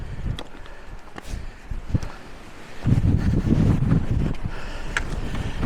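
Gusty wind buffets the microphone on an open fell summit, a rough low roar that swells and strengthens partway through and keeps blowing steadily to the end.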